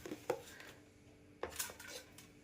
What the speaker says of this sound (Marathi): हा मटार यामध्ये भरून घ्यायचे आणि झाकण ह्याचं लावून घ्यायचं